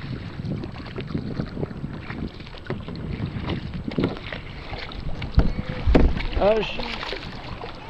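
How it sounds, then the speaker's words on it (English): A kayak moves on the water off Marathon, Florida, with a steady wash of water and wind buffeting close to the microphone, while someone speaks briefly near the end. "excuse my kayak"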